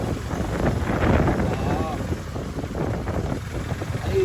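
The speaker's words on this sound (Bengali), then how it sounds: "বিশাল হাওয়া হচ্ছে" Steady strong wind in Rishikesh buffets the microphone with a low rumbling roar throughout, while a person talks over it.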